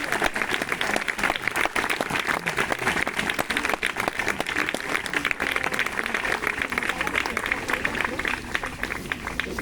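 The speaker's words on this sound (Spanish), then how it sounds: "un aplauso para la Guardia de Santiago" Sustained applause from an assembled crowd honouring the Guardia de Santiago at a memorial tribute in Logroño's Bosque de la Memoria, dense steady clapping at close range throughout.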